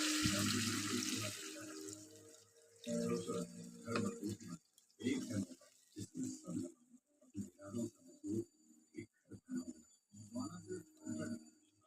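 Water being poured into a pot of chicken curry (chicken kasha), a steady running splash in the opening seconds, then intermittent close speech with faint background noise.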